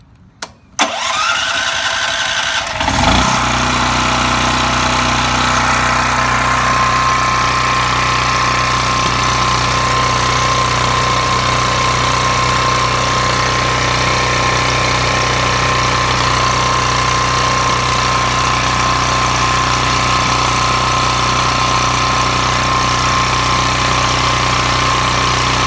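A propane generator engine cranks, starts with a rough burst, then settles into a loud, steady running drone that continues unchanged for over twenty seconds.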